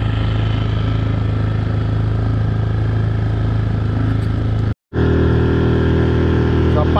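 A motorboat with a sports engine runs steadily on a reservoir while out catfishing, its loud droning rumble under wind, breaking off for an instant before resuming.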